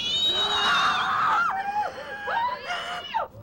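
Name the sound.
woman screaming, shrill screech in the film Sweet Home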